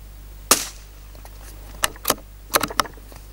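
.22 LR Zeds subsonic rimfire rounds fire as sharp, fairly quiet cracks: one isolated shot, then a pair, then a quick cluster of three or four, heard near and without speech.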